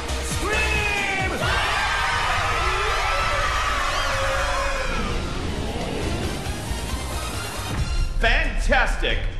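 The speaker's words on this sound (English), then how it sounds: "Let's hear you scream as loud as you can." A Halloween parade crowd screams and yells together on cue, a loud sustained wall of shrieks that fades out, followed by a few excited shouts and a voice cutting in near the end.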